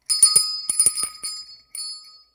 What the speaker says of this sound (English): I will ring the bell.